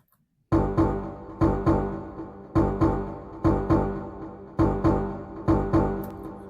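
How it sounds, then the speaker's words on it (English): A plucked bass line from the Nexus synth plugin for an Afro house track, repeating short punchy notes in a steady syncopated rhythm, loud and alone after a brief silence. "from here we have this bass line from Nexus"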